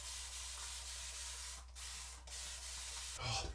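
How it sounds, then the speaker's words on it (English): A Henson AL13 Mild safety razor makes a second pass across the grain, giving a close, steady scraping rasp for about three seconds before a brief, louder rustle at the end. No voices are heard. "Second pass with the Henson AL13 Mild across the grain."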